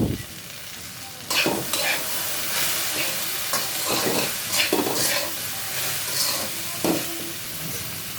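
Okra fries with chili and salt in a pan, giving a continuous close sizzle with sharper crackling bursts and stirring scrapes spread through the clip.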